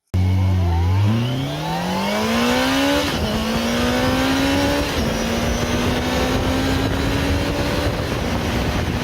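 A Yamaha FJR 1300 motorcycle engine revs hard to about 11,000 rpm, climbing to a high-pitched scream, shifting up through several gears, loud and close.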